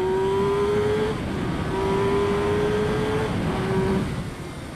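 A motorcycle laps a wet race track at Winton Raceway, its engine droning steadily with rising and falling pitch as it accelerates and eases off, loud and close, with tire and spray noise underneath.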